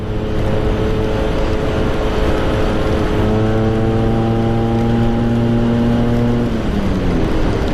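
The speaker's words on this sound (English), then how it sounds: "So I'm in third gear right now, and she could rev right out if I wanted to." A Vespa PX scooter fitted with a 177cc VMC Super G kit revs steadily in third gear, its engine droning loud and close, the pitch holding and then dropping near the end, with no voices.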